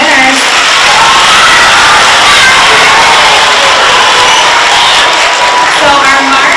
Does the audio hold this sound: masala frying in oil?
no